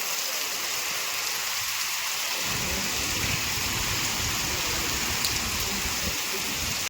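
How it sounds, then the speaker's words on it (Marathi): Steady, dense unseasonal rain in Konkan, India hisses across the whole stretch, with a heavier low rumble of downpour thickening after the first couple of seconds. "आता जोरदार पावसात सुरुवात झाली आहे."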